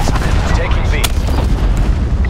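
Hellstorm missile strike in Call of Duty: Black Ops 4 Hardcore Domination, loud continuous booming explosions with a sharp crack partway through, dense low rumble throughout.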